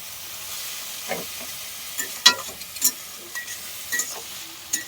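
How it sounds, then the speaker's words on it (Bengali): Vegetables stirred in a hot pan before a lid goes on: a steady low sizzle runs throughout while a spoon scrapes and clacks against the pan in irregular strokes, close and moderately loud. "অল্প ভালো করে নেড়ে ঢাকনা দিয়ে মজাতে বসিয়ে দেব।"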